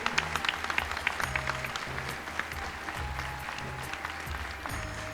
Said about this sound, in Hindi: फिर से जोरदार तालियों का साथ आप सभी की ओर से हो जाए